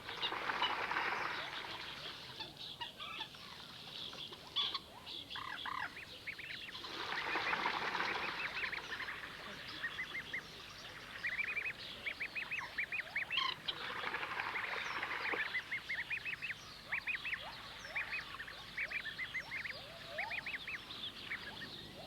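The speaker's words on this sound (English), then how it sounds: "The mallard and the moorhens will actually fight over it." Mallard ducks and moorhens calling around a lion's pool at a zoo, with repeated quacks and squabbling calls in bursts, some wing flapping, fairly distant and steady.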